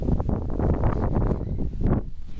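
Strong wind gusting across an old cemetery, a rough, buffeting rush hitting the microphone in continuous waves, close and loud throughout.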